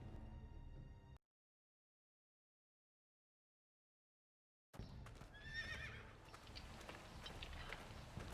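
A horse whinnies briefly at the start, then silence, followed by a busy stretch of hoof and ambient sounds with a high squealing neigh, from the video game Game of Thrones by Telltale.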